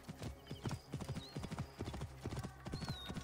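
Horse hooves clip-clop in a quick, steady rhythm in the Assassin's Creed Origins game, quiet and mid-distance, with faint game ambience behind them.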